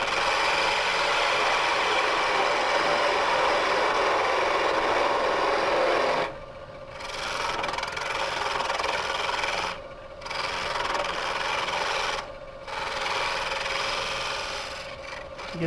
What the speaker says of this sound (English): What I'm doing right now is I'm going to form a tenon.